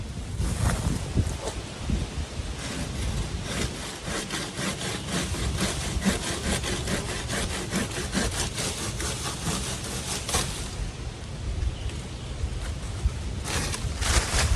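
A Silky Gomboy pole saw, lashed with kudzu cordage, cutting wood outdoors in steady rhythmic rasping strokes, loud and close with a short pause partway through.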